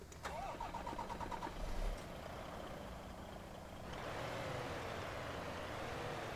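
A DAF XF Euro 6 truck engine in Euro Truck Simulator 2 cranks and catches, then settles into a steady, low idle rumble that grows slightly louder after a few seconds.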